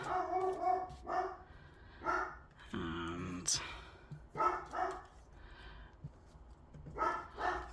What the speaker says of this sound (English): love that dog.